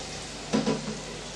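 Ground tomato purée goes into a hot pan of sautéing potatoes, a steady sizzle swelling briefly in a short splattering burst before settling back, close and without talk.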